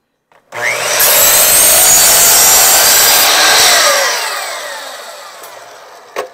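A power saw cuts through wood trim for an entryway jamb, one continuous loud whining cut that holds steady for several seconds and then winds down, heard up close with no talking.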